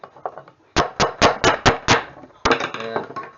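Hammer blows knocking a 1968 Dodge Charger tail light lens free from its assembly in a garage: six sharp, evenly spaced strikes, loud and close, followed by a rattling clatter of loosened parts.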